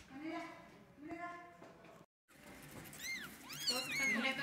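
Newborn kittens mew in thin, high repeated cries, several overlapping calls rising toward the end, close by and under a person speaking.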